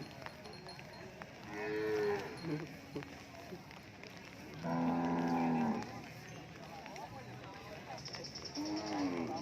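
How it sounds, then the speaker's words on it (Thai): Cattle at a rural livestock market in Thailand, with one cow giving a drawn-out moo partway through, set against a busy murmur of people talking and general market bustle. "วัว สีเหลืองก็มี"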